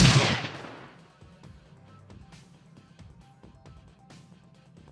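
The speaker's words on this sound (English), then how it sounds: "I may just need to bring out the frag grenade here" A frag grenade in the Shadowrun Returns video game explodes in a loud, booming blast that decays over about a second, followed by quieter clicks and game sound effects.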